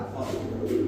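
Lal Gorra pigeons coo at a pigeon market, giving a short, soft, low throaty burble close by over faint background murmur.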